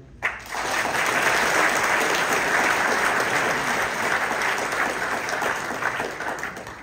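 Dense, steady applause from a large audience at the fiftieth-anniversary general assembly of the Club des Cent Cols cycling club, starting abruptly and continuing evenly before tapering slightly.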